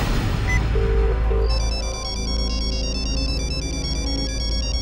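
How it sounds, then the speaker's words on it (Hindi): A mobile phone plays a melodic ringtone in a TV drama scene, a loud, close electronic tune of repeating notes over a low background hum, with no talk. "अरे इसका फोन ना उठाऊंगी ना तो ये बार बार फोन करती रहेगी।"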